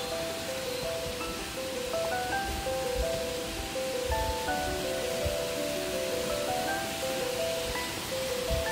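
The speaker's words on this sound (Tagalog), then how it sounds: "yung waterfalls" A state park waterfall pours in a steady, unbroken rush of broadband water noise, with faint thin tonal calls threading above it throughout.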